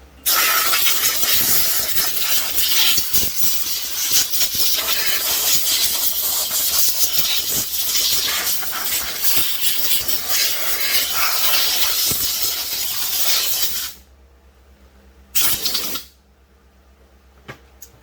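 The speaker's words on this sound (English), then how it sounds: "I'm going to blow it off the air hose" A compressed air hose blasts dirt off a Stihl BR 600 leaf blower in a loud, steady hiss that lasts about fourteen seconds, stops, and returns for one short final burst.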